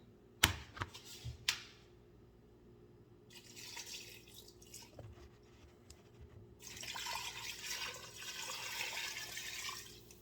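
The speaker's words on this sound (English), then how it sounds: "I'm just going to add in some water." Water is poured into a pot of seasoned beef while cooking Cameroonian ndole, first a few sharp clinks, then a faint, steady splashing pour that grows into a fuller rushing stream toward the end.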